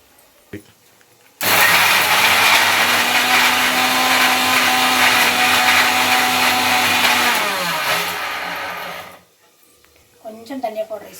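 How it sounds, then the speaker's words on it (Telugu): A kitchen mixer grinder whirs loudly and steadily for about eight seconds while grinding raw mango chutney, then winds down and stops, with brief voices before and after. "ఇప్పుడైతే మిక్సీ పట్టేస్తా పచ్చి మామిడికాయ పచ్చడి రుబ్బిన తర్వాత తాలిపు పెడతా"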